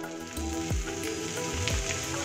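Cut potato pieces, two medium potatoes in small chunks, dropped into a pan of lightly fried onions for a kolmi shak dish, giving a steady close hiss and sizzle with a couple of brief clatters as they land.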